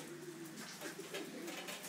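Young racing pigeons coo in a loft in Hilo, Hawaii, a soft low burbling that repeats faintly against a hissy background.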